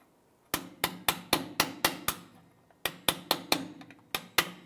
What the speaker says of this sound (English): Flat chisel, and I'm just going to tap this. I'm just going to work that clip off.